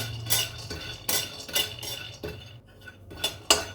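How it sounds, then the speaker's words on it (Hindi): Almonds roasting dry without ghee in a pan over a low flame, stirred with a metal spoon: repeated close clinks and scrapes against the pan in an uneven rhythm over a quiet background. "धीमी धीमी आंच पे इनको भी साथ में भून लेती हूँ।"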